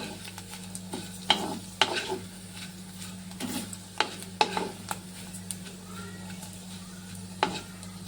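Papad frying in hot oil in a kadai: a steady soft sizzle with repeated spatula scrapes and clinks against the pan, moderately close and fairly quiet.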